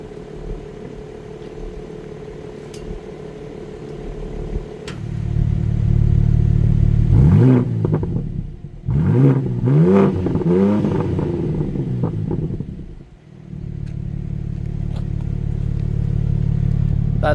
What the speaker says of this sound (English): So, that was the exhaust sound.